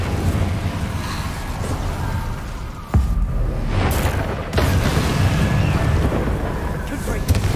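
Incendio fire spell cast in Hogwarts Legacy, a roaring whoosh of flame with sharp bursts over a steady rumbling bed, loud and close throughout.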